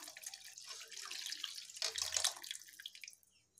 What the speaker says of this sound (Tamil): இப்போ மசாலாவில் புளித்தண்ணி ஊற்றிக்கலாம்.